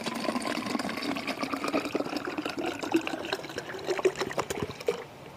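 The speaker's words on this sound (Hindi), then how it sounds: "अब इसमें पानी डालेंगे," Water is poured into a sattu energy drink made with squeezed lemon, a close, continuous trickling splash that rises and falls unevenly, with no talking.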